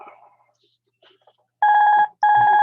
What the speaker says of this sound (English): Interruption there, telephone ringing.